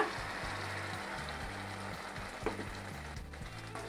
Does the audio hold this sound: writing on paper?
no